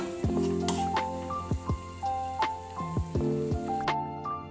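Water poured into a pan of frying bottle gourd and tomato masala, giving close, repeated squishy bubbling pops and sputters in an uneven rhythm, with no talking.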